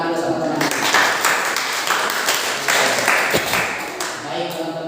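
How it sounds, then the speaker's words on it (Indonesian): A school class clapping for a classmate, a burst of mixed hand claps from many students that swells and fades over a few seconds, with a teacher's voice before and after. "Beri tepuk tangan dulu sama teman."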